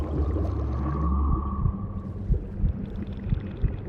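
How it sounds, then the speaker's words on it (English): Minecraft conduit activating and then running, a low sweeping hum and rising tone that settles into soft pulsing, watery throbs with light airy shimmer on top. "There are sound effects for the conduit activating and being active."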